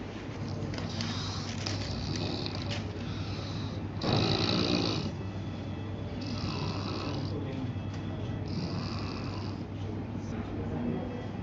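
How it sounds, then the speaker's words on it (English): A sedated patient on dexmedetomidine snores in a hospital procedure room, with slow, regular breaths repeating every couple of seconds over constant equipment hum and background noise. "Patient is snoring"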